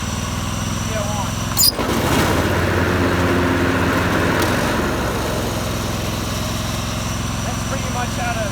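John Deere LX188 lawn tractor running with the mower deck engaged and throttle raised, a steady close engine drone with a sharp clunk early on, then a slight rise as it settles.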